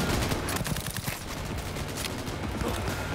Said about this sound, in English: Oh, it's a smart gun, I believe.